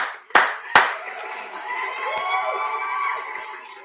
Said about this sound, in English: Everybody clap, Chelita.